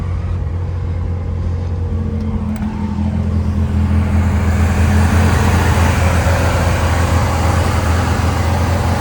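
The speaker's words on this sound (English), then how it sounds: "Very smooth running car." A 1969 Chevy Corvair Monza coupe's engine runs steadily and loud up close, a smooth low burble with a constant rumble throughout and no other sounds.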